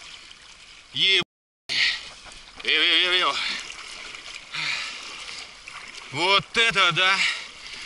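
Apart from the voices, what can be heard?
kayak splashing through waves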